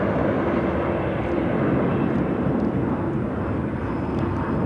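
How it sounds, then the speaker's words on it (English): An airliner roars at Chicago O'Hare as it takes off for Washington Dulles, a loud, steady broadband engine rush with no voices. "It's going to take off to Washington Dulles."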